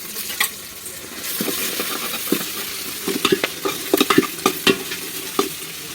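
Mint leaves and green chillies sautéing in a pan for chicken biryani, a soft sizzle under a run of scraping spatula strokes and clinks that grow busier toward the end.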